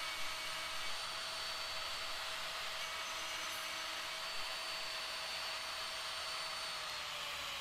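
A router runs steadily while cutting a tenon with a mortising jig for a Shaker dresser. The close, loud whine holds without a break throughout.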